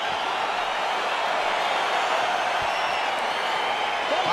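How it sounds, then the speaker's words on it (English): Steady crowd roar and cheering in an arena at the start of a UFC bout in the video game EA Sports UFC 4, a continuous dense wash of noise with no breaks, fairly loud throughout. "crowd getting excited as this fight gets underway"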